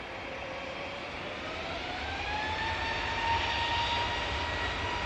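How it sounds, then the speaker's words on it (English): An Aer Lingus ATR turboprop plane landing on runway 23 right at Manchester Airport: a steady, fairly distant propeller and engine drone with a rising whine, building gradually and holding near constant loudness throughout, with no talk. "Aer Lingus ATR about to touch down on 2-3 right"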